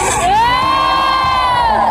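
Crowd at a political rally in Sukabumi, Indonesia, jeering and shouting together in a loud, close, continuous roar of raised voices with whoops.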